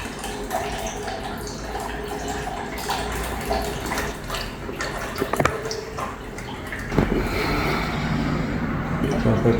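Water drains and trickles out of an old radiator that is being replaced with a modern vertical one, a steady splashing wash with a few louder gurgles and drips near the end.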